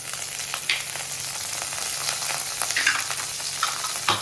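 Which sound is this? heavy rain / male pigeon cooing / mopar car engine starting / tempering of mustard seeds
tempering of mustard seeds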